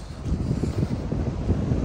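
Steady wind gusting over an open fishing lake, a constant low rumbling buffet against the microphone with no voices.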